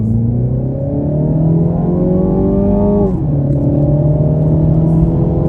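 A 2024 Mini Clubman S All4 turbo accelerates hard, the steady engine tone climbing in pitch, dropping briefly at a gear change and then climbing again, loud and close from inside the cabin.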